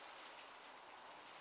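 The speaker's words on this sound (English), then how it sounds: "Sorry about the rain coming down." Rain falling outside, a faint, even hiss of steady drops without pause, with no voices over it.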